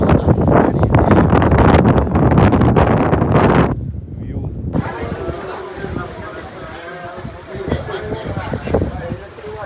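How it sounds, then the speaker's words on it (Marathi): Strong wind on a jetty at Murud-Janjira during rain buffets the microphone in a rough, gusty roar, with someone talking over it in the first few seconds. "आता जेटीवरती फुल वारा आणि आत्ताच एक झपाटा येऊन गेला"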